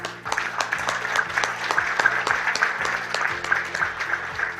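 Warm applause rises from a conference audience at a regional Memory of the World committee meeting, dense continuous clapping held steady for several seconds under a low hum, with no one speaking.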